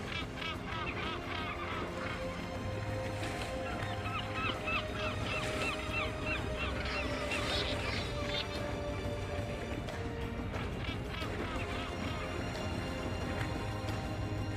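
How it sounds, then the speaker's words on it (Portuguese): Gannets plunge-diving for fish off Arrábida, Portugal, amid a feeding frenzy shared with dolphins, heard as a dense, continuous wash of seabird calls with a steady background rumble. "Os gansos patola mergulham do alto como balas."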